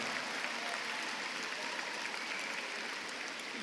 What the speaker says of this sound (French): Alors s'il vous plaît, applaudissez Olivier et ses équipes